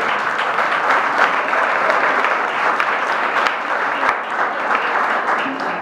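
Church congregation clapping to glorify the Lord, a steady, loud, continuous roar of applause filling the room throughout.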